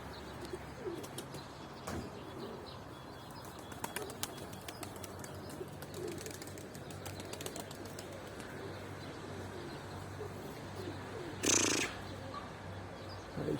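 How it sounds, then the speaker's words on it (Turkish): Bozduman pigeons cooing and fluttering outdoors, with soft wingbeats and occasional sharp flaps against a quiet ambient background. "Uçmaya alışık olan kuş yüksel nasıl veriyor kendini."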